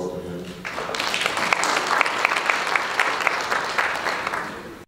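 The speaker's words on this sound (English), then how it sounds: "Can we give a round of applause to him?" A conference audience applauds. The clapping is loud and dense and holds steady for several seconds before it cuts off.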